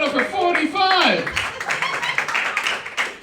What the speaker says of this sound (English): Clap it up for 45